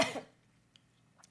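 A single sharp cough from an adult speaker, loud and close, fading into room quiet with a couple of small faint sounds afterward.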